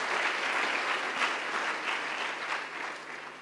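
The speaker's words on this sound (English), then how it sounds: "Let us give the Right Honourable a round of applause" Sustained audience applause fills a hall at the closing ceremony of Kenya Innovation Week 2023, Commonwealth edition, a dense even wash of many hands that slowly tapers off, heard from a moderate distance.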